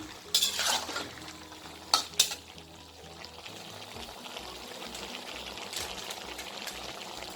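Ginger frying in a pan for a Lakshmi puja offering, stirred with a couple of sharp scrapes and clinks near the start, then a soft, steady sizzle that carries on quietly with no talk.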